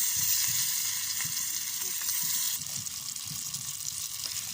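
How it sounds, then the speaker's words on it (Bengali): Fish frying in hot mustard oil in a wok gives a steady, loud, close sizzle that hisses without a break, easing slightly in level partway through. "এই দেখেন আমাদের মাছ ভাজা হচ্ছে"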